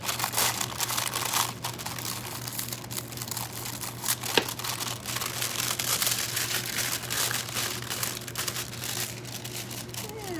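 Foil sheet pressed and smoothed over foil adhesive during a heat transfer vinyl trinket box craft, giving a steady close crinkling and rustling throughout with a low constant hum beneath.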